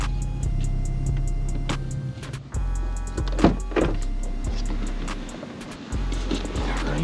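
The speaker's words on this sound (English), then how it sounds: "let me turn off the car, roll up the windows" Car power windows whirring steadily as they roll up inside a stanced car, a continuous motor drone with a few clicks and thumps as each glass seats, close and alone.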